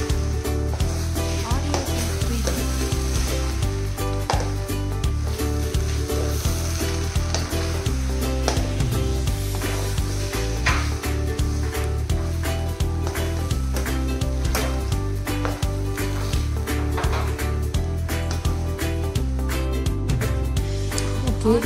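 Masala rice with fresh mint leaves sizzles steadily in a hot pan while a spoon stirs and scrapes it, producing repeated soft clinks and scrapes over a constant frying hiss, close and continuous with no talking.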